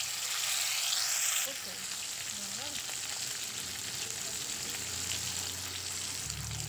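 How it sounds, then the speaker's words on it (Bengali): Steady, soft sizzle of saiding fish frying in hot oil, a continuous crackling hiss that stays even throughout. "এবার মাছগুলো একটা একটা করে দিয়ে ভেজে নেব।"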